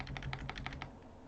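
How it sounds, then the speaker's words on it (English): Arrow keys tapped on a computer keyboard while editing in vim, a quick run of about nine crisp clicks close up, trailing off into quiet. "And I'm just using my arrow keys to move around"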